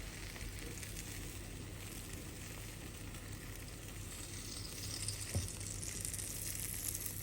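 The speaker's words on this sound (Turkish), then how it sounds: "Şöyle güzelce kızaran patates ve kabakların üzerine yaptığım sosu ekleyeceğim" Potatoes and zucchini fry steadily in a pan with a constant soft sizzle, a brief louder splash and hiss near the end as a homemade sauce is poured over them.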